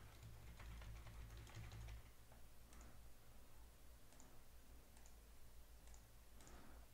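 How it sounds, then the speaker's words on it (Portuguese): Someone types on a computer keyboard during a programming lesson, producing faint, scattered clicks and taps, with a denser burst of keystrokes at the start and sparse isolated key presses afterward. "vou digitar aqui."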